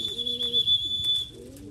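A homing pigeon back from a flight, trailing a kite string, gives soft low coos beneath a thin steady high tone, close and quiet.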